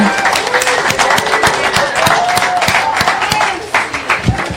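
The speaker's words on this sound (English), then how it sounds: "Let's give a big round of applause to our board." Applause and cheering from an audience at an open meeting of the Texas NORML group, dense continuous clapping with voices mixed in, fairly loud and close throughout.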